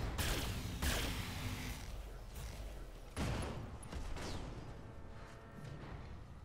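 Weapons firing in Roguetech, a BattleTech mech combat game: a few heavy booming impacts and blasts spaced apart, loud and rumbling with mechanical clatter between them.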